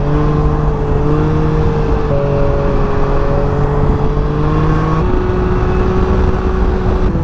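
Can-Am Ryker three-wheel motorcycle cruising on a highway, its engine holding a steady drone with a slight pitch rise partway through, heard from the rider's seat amid constant wind rush, no talking.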